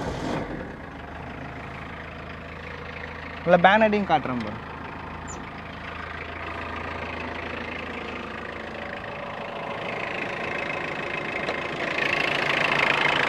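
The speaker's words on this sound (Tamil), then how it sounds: "இன்ஜின் ஸ்டார்ட் பண்ணி காட்டுறேன்." A used car's engine starts and idles steadily under a man's speech, with a brief louder burst partway through and the engine note rising slightly toward the end.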